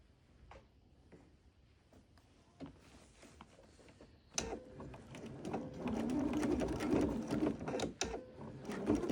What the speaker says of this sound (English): So now we sew at that 1/4 inch seam allowance, back stitching at the beginning and the end to secure that towel down